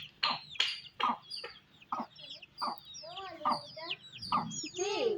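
Chickens cluck repeatedly at close range in short, irregular bursts, with a few higher chirps mixed in and a voice murmuring underneath.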